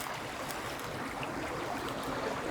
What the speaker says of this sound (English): here next to the house, there's this little creek, little cute creek flowing and providing ambience all around this place.